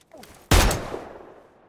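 A single sharp gunshot in a video game pistol duel, a sudden loud crack that decays quickly into a short fading tail after a brief quiet lead-in.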